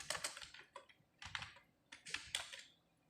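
Keys on a computer keyboard are tapped in quick clusters of clicks separated by short pauses, faint and close, with no voices.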